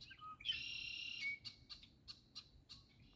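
Black birds with red crowns sing in the early morning: a bright sustained whistled note followed by a run of shorter chirps, faint and fairly close.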